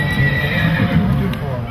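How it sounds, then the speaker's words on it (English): A horse at an agricultural exhibition with horse shows, its whinny rising over a busy outdoor crowd with hoof clatter and voices talking nearby, brief and fairly close. "There are horse shows too."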